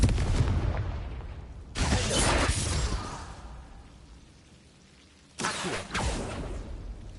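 A Confringo fire spell bursts in Hogwarts Legacy, two loud explosive blasts with whooshing tails a few seconds apart, each fading into a low rumble.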